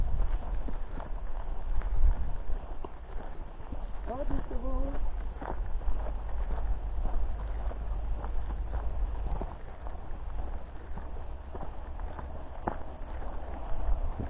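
Horses near a rural hiking trail between Vitré and the Haute-Vilaine dam give soft hoof-like thuds and a brief whinny-like call midway, while hikers talk over the steady outdoor background.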